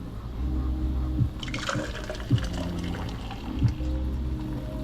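Juice is poured into a glass, a steady watery trickle and gurgle with a few small splashy bumps, close by and fairly quiet, with no talking.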